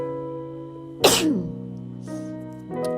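A single sharp sneeze bursts out over a steady background hum, followed by quieter vocal sounds.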